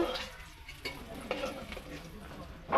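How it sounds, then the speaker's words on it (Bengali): Eggplant sizzles steadily in hot oil while a utensil stirs and scrapes the pan in short, uneven strokes. "ওই তেলেতে বেগুনটা তুলে দেবো বেগুনটা একদম ভেজে তুলে নেবো"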